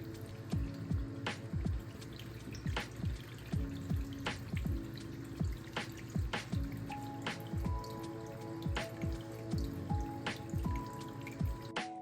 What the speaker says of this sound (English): finally the waterfall's on